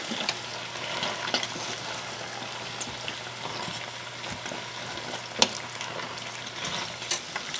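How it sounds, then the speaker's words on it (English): Spicy macaroni and cheese being stirred in a pot on the burner, a continuous bubbling sizzle with scattered spoon scrapes and one sharper knock. "All we do is stir it together."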